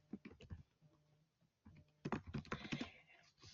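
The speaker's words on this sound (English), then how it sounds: "I'm typing this up." Soft, faint clatter of keys on a computer keyboard in two short bursts of typing, close and otherwise quiet.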